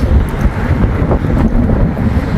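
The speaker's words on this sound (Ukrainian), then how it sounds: "Яка б не була погода, от саме в цьому місці завжди вітряно." Strong wind buffets the microphone in a constant low roar, steady and close, with no voices over it.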